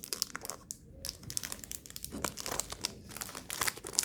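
Crinkling plastic wrapper of a Dubai chocolate bar being torn open, a continuous close crackle with sharper crunches and rips throughout.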